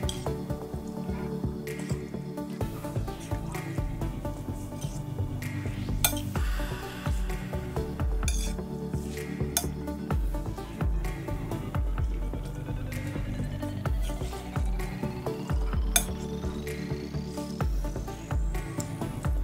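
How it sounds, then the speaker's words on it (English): Bow tie pasta being stirred into a tuna macaroni salad in a bowl, giving a steady run of soft wet squelches and light clinks of the utensil against the dish, continuous and close, with no talking. "we're gonna stir it up together nicely"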